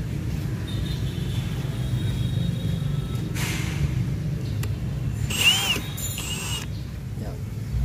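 A Milwaukee cordless power drill whirs steadily at a low pitch, with a brief higher whine and a few faint clicks midway.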